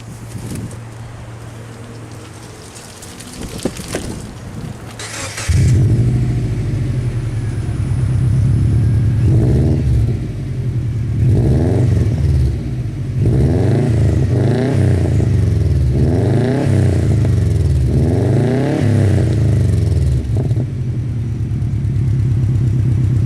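Subaru fitted with a Cherry Bomb exhaust starts up and revs repeatedly, the engine note rising and falling in a series of loud, close throttle blips over a rumbling idle.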